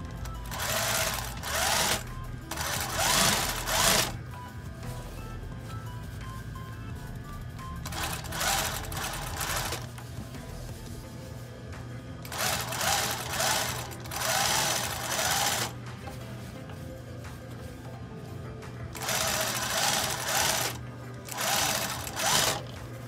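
A sewing machine stitches the waistband seam of an A-line skirt, running in several loud, close bursts of rapid needle clatter separated by short pauses with a low background hum.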